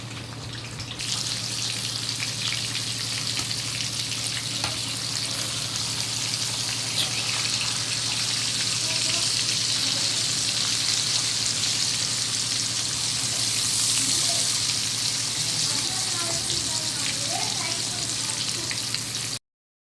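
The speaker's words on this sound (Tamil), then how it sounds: "சிம்மில் வச்சு நல்லா திருப்பி திருப்பி நீங்கள் ஃப்ரை பண்ண விட்டுருங்க." Tandoori chicken pieces fry on a low flame in a pan, giving a steady, even sizzle that carries on evenly for the whole stretch, with occasional faint clicks and almost no talking.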